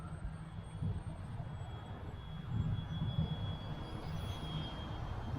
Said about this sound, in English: really fun little helicopter to fly